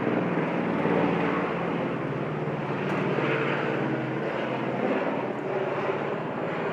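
A helicopter passes overhead during an outdoor meditation, its steady, dense engine and rotor roar holding loud and broadband throughout, with no talking.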